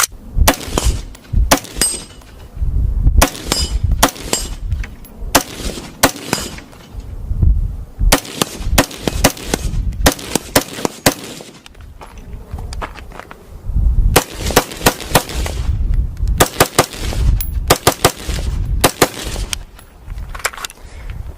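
Aero Precision M4E1 rifle with a LaRue trigger and Leupold rings fired outdoors in loud, sharp reports, single shots and quick strings of rapid fire spread across the stretch with brief pauses between bursts.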